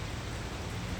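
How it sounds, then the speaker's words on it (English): Steady rain falls with a dense, even hiss that stays unbroken for about a second, with no voices over it. "oh man, it's raining."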